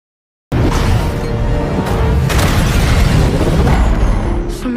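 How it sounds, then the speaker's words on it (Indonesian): A huge blast from the 2022 film Samaritan, a sudden loud boom followed by a sustained rumbling roar with debris and crackle, close and overwhelming with no talk. "Samaritan and Nemesis died in the blast."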